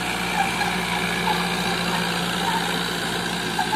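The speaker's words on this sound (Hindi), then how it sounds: "ये 50 हॉर्स पावर का ट्रैक्टर है और मॉडल है 2015 का मॉडल है।" A 2015 Ace 450 DI 50-horsepower tractor engine pulling a 9×9 harrow runs as a loud, steady, close diesel drone with an even rumble and no talk.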